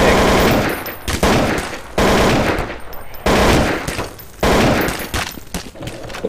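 Loud, rapid automatic gunfire rattles in Counter-Strike: Source on an assault map, coming in several dense bursts separated by short gaps.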